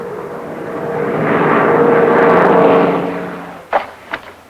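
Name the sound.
McDonnell Douglas A-26 airplane flying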